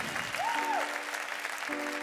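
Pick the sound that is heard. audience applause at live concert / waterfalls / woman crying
audience applause at live concert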